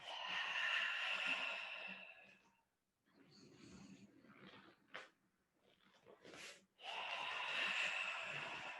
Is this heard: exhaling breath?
yes